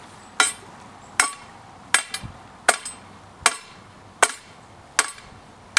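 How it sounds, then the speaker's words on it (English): A sledgehammer drives steel side stakes for a roller winch into the ground outdoors, eight sharp metallic strikes landing at an even, unhurried rhythm, close and clear with nothing else over them. "Now you just simply pound these side stakes in with a sledgehammer, and this secures the roller winch securely to the ground"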